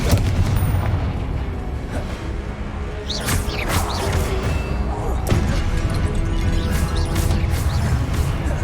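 Explosions from the Confringo fire spell in Hogwarts Legacy: heavy booming blasts with crashing debris, the two strongest landing a couple of seconds apart over a rumbling battle background.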